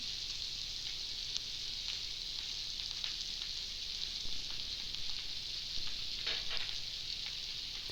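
Chili powder and chili pieces frying in a pan for Sri Lankan village-style coconut sambol: a dense, even sizzle runs continuously, close and moderately quiet, with a slight swell of crackling near the end.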